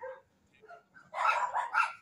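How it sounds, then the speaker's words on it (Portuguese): A dog barks in the video game Genshin Impact, a few close, loud barks bunched near the end after quiet, scattered sounds. "Meu Deus, começou a latir."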